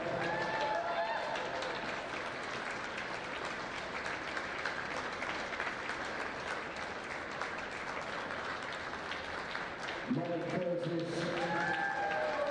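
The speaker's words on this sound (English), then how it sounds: "And good to hear all the applause." Crowd applause at the ESFA national schools football finals, sustained dense clapping from spectators that carries on for the whole stretch, with some voices heard over it near the end.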